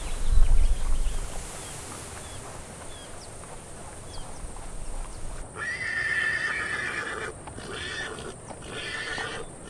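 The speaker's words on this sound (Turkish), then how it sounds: "Ve Gobi'nin otlaklarında bir başka son yaban at sürüsü dolaşır. Przevalski atı." Przewalski's horses on the Gobi grasslands give a loud whinny at the start, then hooves clip-clop steadily through the rest with another neigh midway, faint insect buzzing behind.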